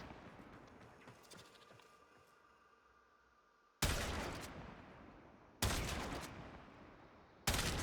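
Three loud, sharp gunshots from a primed chamber weapon in a shooter video game, spaced about two seconds apart after a quiet stretch, each a broadband crack with a short decaying tail.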